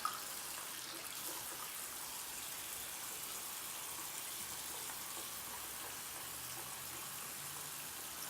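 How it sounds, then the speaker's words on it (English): Tap water runs steadily and faintly while a dirty makeup brush is rinsed clean, a soft continuous wash of splashing with no voices. "So I'm washing that brush because it was dirty"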